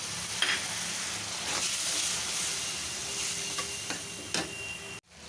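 Ginger-garlic paste, turmeric, chili and coriander powder fry in a pan for a river fish curry, with a steady close sizzle and a few stirring scrapes, ending in a sharp knock.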